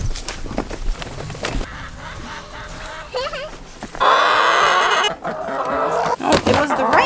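Chickens on a homestead clucking and squawking in scattered bursts, fairly close, mixed with rustling and a person speaking at times.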